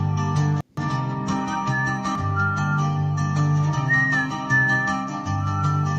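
A clear, melodic whistled tune weaves over a steady musical backing, with long held notes and gliding pitch changes throughout.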